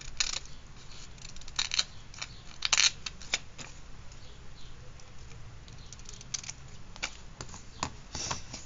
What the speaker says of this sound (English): I'm still cutting off the white.